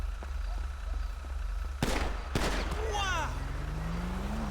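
Two sharp gunshot cracks from a Grand Theft Auto roleplay game ring out over a steady low hum, followed by whooshing, swooping electronic game sounds.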